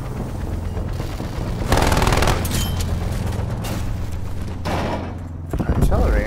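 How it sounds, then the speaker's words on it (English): Explosive artillery strike in Call of Duty Black Ops Cold War, hardcore free-for-all, with loud booming blasts and bursts of gunfire rolling through the clip under a man's chatter. "Artillery, huh?"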